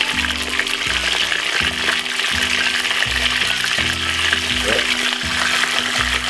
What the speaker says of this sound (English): fry it for roughly about 4 minutes each side to get that perfect brown